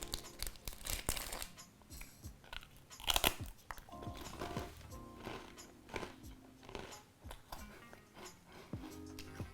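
Someone bites into and chews a crispy Korean snack up close, with repeated sharp crunches and crackles, a loud burst around the middle, then softer chewing with packaging crinkles.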